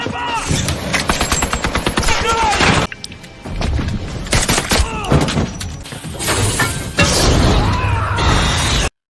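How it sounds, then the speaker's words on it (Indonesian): Heavy gunfire in an action film shootout between a hitman and mafia thugs: rapid bursts of automatic fire, single shots, impacts and shattering debris, loud and close, broken by brief pauses. "aksi tembak-menembak pun terjadi"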